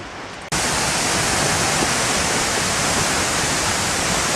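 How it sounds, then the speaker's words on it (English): A waterfall in Iceland roars as a loud, steady, broadband rush of water, heard from close by. It starts abruptly after a brief quieter moment and then continues unbroken. "There's another waterfall."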